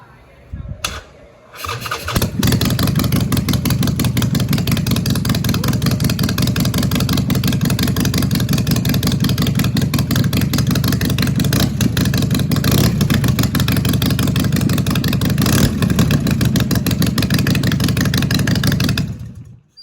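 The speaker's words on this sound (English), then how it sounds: "I thought I'd do a nice little cold start for you guys, so you can hear how loud these drag pipes really are." Harley-Davidson Sportster 48 bobber with loud drag pipes fires up from cold after a brief crank, then settles into a loud, steady, lumpy idle that runs close and continuous for the rest of the clip.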